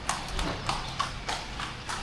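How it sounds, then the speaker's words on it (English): Rhythmic clip-clop of horse-drawn carriage hooves passing outside a breakfast area in Thailand, steady evenly spaced hoof strikes at moderate distance over a faint background murmur. "you hear the clip clop"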